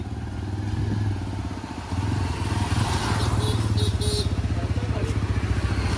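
A motorcycle rides past on a trial run at a showroom lot of bikes and scooters, its engine a steady, fairly loud rumble that stays prominent throughout, with a brief dip near two seconds and faint voices in the background.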